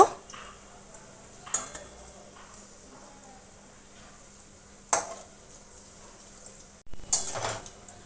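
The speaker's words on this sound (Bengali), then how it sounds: "একটু মিডিয়াম আঁচে নেড়ে চেড়ে বড়াগুলো একটু ভেজে নেব" A spatula scrapes and stirs pumpkin fritters in a pan with several sharp clattering strokes over a quiet, faint background sizzle.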